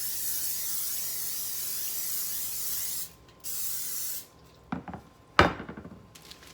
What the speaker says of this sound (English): let's spray it good so it don't stick. And we're just using some canola spray.